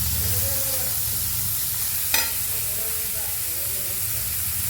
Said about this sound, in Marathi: त्यात आता आपण 1 वाटी टोमॅटो घालूया